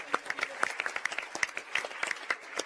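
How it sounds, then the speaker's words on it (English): Scattered audience clapping at a PaleyFest panel for NCIS: Los Angeles, individual claps standing out in an uneven patter rather than a full ovation, fairly close and moderately loud. "a round of applause for all the folks in Washington who are working hard."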